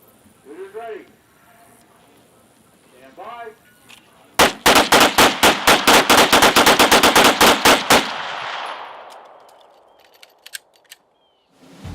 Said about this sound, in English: Military police soldiers trained to fire the M17 Sig Sauer 9mm handgun.